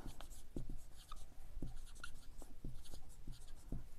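Pen or pencil writing on paper in an exercise book during a class 7 math lesson, soft scratchy strokes in a steady irregular rhythm, close and quiet.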